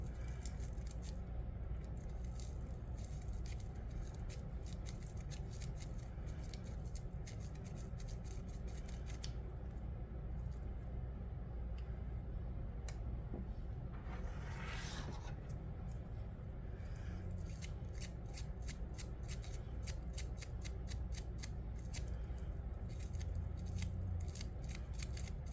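Close, quiet snipping of scissors trimming an onion, many quick crisp cuts in irregular bursts over a faint background hush, with no talking.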